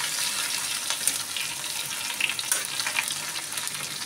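Cumin, grated ginger and three or four chilies sizzle and crackle steadily in a pan while being stirred, a close, continuous frying hiss with occasional sharper pops and scrapes.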